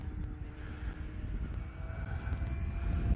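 An FMS Zero or Tower Hobbies Sbach radio-controlled model airplane flying in a climb and roll below half throttle, giving a steady, fairly distant motor drone that swells slightly toward the end.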